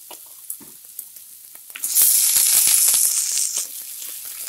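Ponnanganni greens tipped into a pan of sautéed onions burst into a loud sizzle after a few quiet clicks and stirring taps, then the hiss fades to a softer steady fry.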